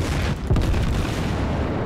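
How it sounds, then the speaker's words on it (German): A Tirpitz battleship in World of Warships fires a broadside: a loud, sudden boom of heavy naval guns that swells into a dense, rolling rumble lasting to the end, with no voices. "Hier nochmal eine schöne Breitseite für dich."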